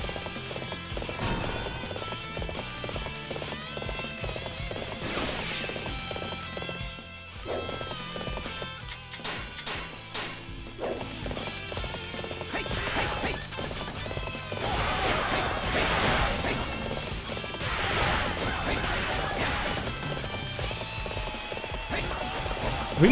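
Horses gallop in the video game Dynasty Warriors 7, a busy stream of rapid hoofbeats mixed with neighing, clashing battle effects and a dense music score, steady and loud throughout.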